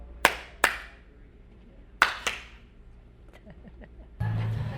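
Two pairs of sharp hand claps marking a film take, loud and close with short decays in a quiet room, followed by low rumbling noise.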